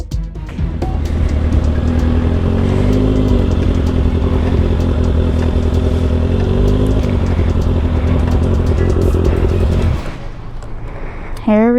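Motorcycle engine idling and revving near a police traffic stop, a loud continuous rumble that holds for about ten seconds before cutting off, followed by brief voices.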